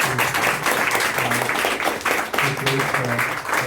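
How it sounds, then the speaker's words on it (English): A round of applause from the audience at a Bhagavad Gita lecture, steady dense clapping throughout with some voices and tonal sounds mixed in underneath. "let's give a big round of applause"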